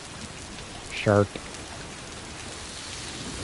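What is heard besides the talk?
rain in Death Stranding 2 video game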